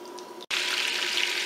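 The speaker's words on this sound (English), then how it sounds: "Hear it sizzling? It's ready now." Half olive oil and half butter sizzling in a heated pan before mushroom halves go in, a steady broadband hiss with a brief drop-out near the start, then continuing evenly and close.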